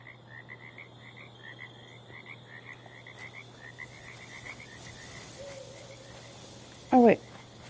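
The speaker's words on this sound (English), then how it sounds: "I wonder if I can find one of the frogs because they look really cool" Frogs croak in Fallout 76, a steady chorus of short rhythmic croaks repeating over a low hum and ambient background, fading toward the end before a sudden loud burst of game sound.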